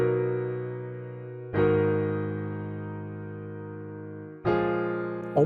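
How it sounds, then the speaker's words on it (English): Strummed piano chords from a MIDI pattern in a melodic beat, three sustained chords each struck with a quick roll and left to ring and fade, clear and alone. "It sounds like this. It's on a piano,"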